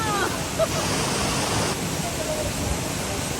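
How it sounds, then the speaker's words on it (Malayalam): A waterfall in Ooty gives a steady, loud, broadband rush of falling water that carries on unbroken from start to finish, with no clear pauses. "ഇതാട്ടോ വെള്ളച്ചാട്ടം"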